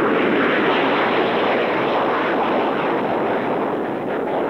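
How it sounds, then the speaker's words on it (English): A United States F-15 jet roars steadily as it climbs away from the runway, a loud, sustained broadband engine rumble that stays close and powerful throughout with no other sounds. "A United States F-15 climbs spectacularly from Ohakia's runway."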